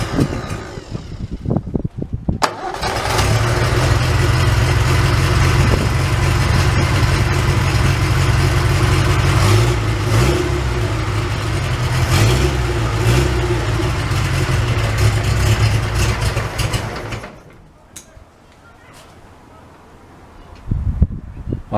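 An Austin 7 special engine, fitted with a muffler, cranks briefly, catches and runs with a loud steady low idle and occasional revs for about fourteen seconds before cutting out, followed by quieter background noise.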